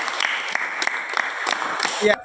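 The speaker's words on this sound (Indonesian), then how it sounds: "Ya, tepuk tangan." Students clap in a classroom during a problem-based learning lesson, a short run of uneven claps mixed with voices talking over them.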